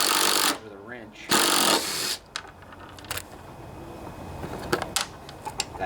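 A power tool spins out 10mm bolts on a John Deere LA145 riding lawnmower deck while bearings are replaced, with loud short bursts of whirring and rattling followed by quieter clanking and handling noises.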